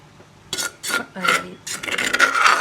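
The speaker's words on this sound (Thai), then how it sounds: "ตักเทลงไปใส่ในหม้อ" Pounded rice is scooped from a mortar into a cooking pot for steamed snakehead fish curry. A few short scraping, clinking strokes of a utensil against the vessels come in quick bursts, close and fairly loud, with no talk.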